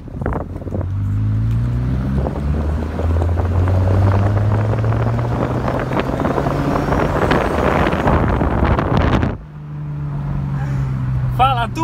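A loud, rough Honda Civic engine with the exhaust tip removed, drone rising steadily in pitch as it revs, then dropping off abruptly, with wind buffeting and a voice talking over it.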